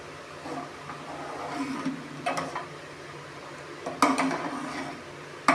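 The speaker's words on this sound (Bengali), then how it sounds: "চালটা দেওয়ার সঙ্গে সঙ্গেই দুধটা নাড়তে হয় তো।" Stirring rice into milk in a pot for payesh with jaggery, giving intermittent soft scrapes and clinks of a utensil against the pot over a low background, with a few sharper knocks near the end.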